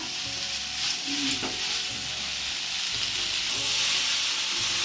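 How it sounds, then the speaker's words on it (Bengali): Chow mein with vegetables fries in a pan with a steady, close hissing sizzle, while a spatula scrapes and tosses the noodles in repeated rhythmic strokes. "এই যে চাউমিনটা একটু ভেজে নিয়েছি"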